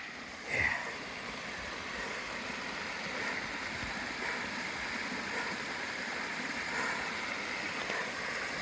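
A mountain stream along the Appalachian Trail flows steadily, a constant close wash of rushing water with a brief louder splash near the start and no talking.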